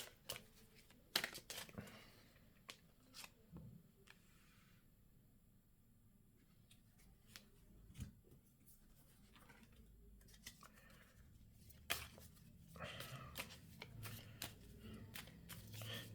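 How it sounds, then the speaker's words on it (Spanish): Tarot cards are cut and drawn at a table, giving scattered soft clicks, slaps and shuffling rustles close to the microphone, with a quieter stretch in the middle and no talking. "vamos a sacar la carta al corte"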